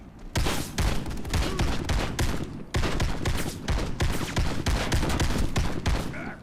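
Dense, continuous gunfire from someone shooting through a window in an online shooter game, with rapid overlapping shots and bursts that keep up loud and close almost without pause.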